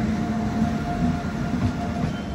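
A train hauled by a WAG-9 electric locomotive rumbles past close by, a steady low roar with a faint rail whine, continuous and loud throughout with no talking.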